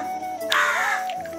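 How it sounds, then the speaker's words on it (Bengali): A crow caws once, close and fairly loud, a short harsh call in a quiet village setting with faint background noise and no talking. "আর এই যে কাকটা ওকে দিচ্ছে এখান দিয়ে"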